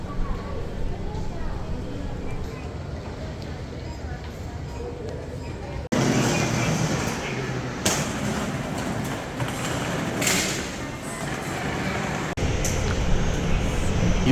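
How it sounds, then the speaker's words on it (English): Continuous rumble of a monorail ride from inside the car near Kobe Airport, Japan, the rolling noise swelling louder partway through, with occasional clacks and a voice speaking. "You take the monorail"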